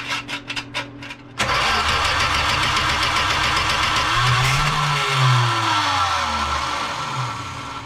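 A Plymouth Duster engine, freshly given a little gas, cranks through a few quick starter bursts, then catches and runs loudly with a rough idle and a couple of rising revs before settling.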